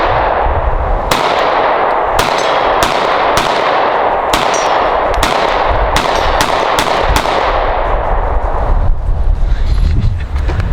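Sig Sauer pistol shots, comparing the P320 and P365, ring out as about a dozen sharp, loud cracks spaced unevenly, each trailing into a reverberant decay over a constant background rumble, with no speech between them.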